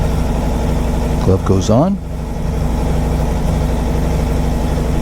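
A 2021 Aprilia motorcycle engine idles steadily and close throughout, its low harmonic hum continuous while someone briefly talks over it.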